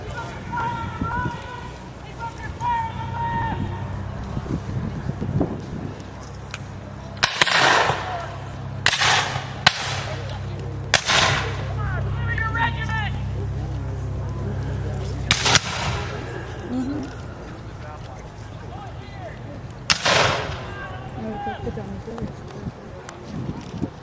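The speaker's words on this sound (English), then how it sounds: "the infantrymen stand their ground, taking deadly fire from the hammock." Gunfire in a live battle reenactment show at a Native village in Okeechobee, Florida: several sharp, loud bangs ring out at scattered intervals over a steady outdoor rumble, while someone narrates throughout.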